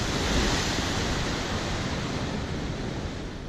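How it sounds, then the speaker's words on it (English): Ocean waves crashing over a seawall on the Santa Cruz de la Palma waterfront in the Canary Islands, a loud continuous roaring surf wash with wind noise, close and with no talk. "We walked from that traffic signal up there where the waves are crashing over the wall."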